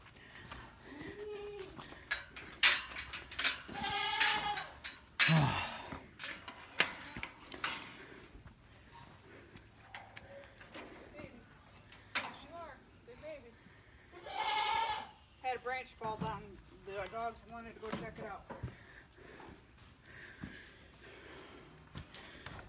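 A farm goat bleats during fence repair, with several loud, wavering cries scattered among nearby talk, snorts and outdoor rustling.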